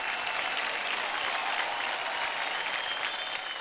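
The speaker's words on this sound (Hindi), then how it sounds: "कमान गाइस, जोरदार तालियां हो जाए विशाल के लिए।" Dense audience applause after a child's dance performance on a televised dance competition stage, a steady continuous wash of many hands clapping throughout.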